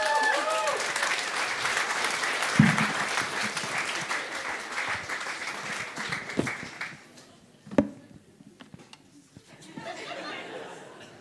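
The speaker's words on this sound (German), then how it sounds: "Herzlichen Applaus." Applause from a comedy-night audience at a university bar as a comedian is welcomed to the stage, sustained clapping with scattered cheers and chatter that thins out after a few seconds, then a few isolated claps and murmurs.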